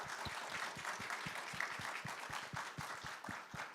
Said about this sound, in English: Let's give a round of applause for Fernando, Jafar, and Eric.